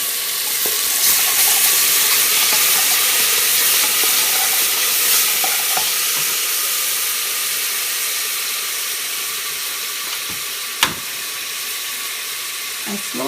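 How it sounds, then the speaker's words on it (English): Ginger and garlic with onions and peppers sizzling loudly in a hot pan for Indian beef curry, a steady bright frying hiss with occasional utensil clicks and no talk. "now I'm going to go ahead and add a good tablespoon of ginger and garlic."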